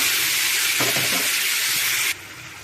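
Hot oil tempering for a tamarind amaranth-leaf stew sizzles loudly and steadily as the stew goes in, a dense close hiss that cuts off abruptly near the end and leaves a quieter hiss behind.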